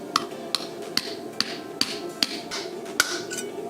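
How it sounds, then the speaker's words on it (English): A crankshaft seal is tapped into place with an installer tool, producing a steady series of crisp, close metallic knocks, about eight evenly spaced hits over a few seconds. "you're gonna use that tool over top of there to knock it into place"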